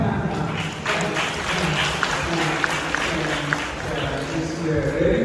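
An audience in a school hall applauds at a National Space Day event, a sustained wash of many hands clapping with a few sharper claps standing out.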